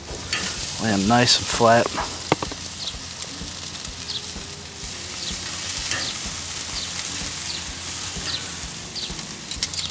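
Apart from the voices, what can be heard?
chicken wings sizzling on a grill over hot coals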